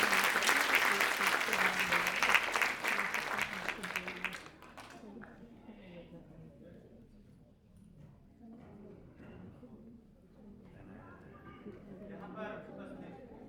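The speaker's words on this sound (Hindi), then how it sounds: "जोरदार तालियों से स्वागत करें।" An audience at an international Hindi award ceremony applauds loudly for a recipient, a dense burst of clapping lasting several seconds that then stops abruptly, followed by quieter talking in the hall.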